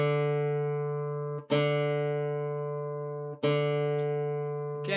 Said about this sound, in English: just adjusting the pegs until they sound in tune